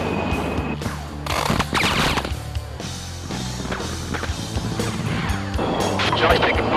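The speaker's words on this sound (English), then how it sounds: "Jolly's taking fire from the target's north." An A-10 Thunderbolt live fire exercise: harsh bursts of gunfire and crashing impacts over a droning engine, with radio voices talking throughout.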